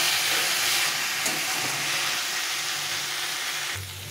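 Chicken pieces and potatoes sizzle and fry in a pan while being cooked down until reddish, a steady dense hiss that carries on without pause before easing slightly at the end.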